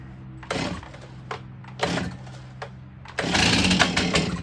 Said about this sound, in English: just like any chainsaw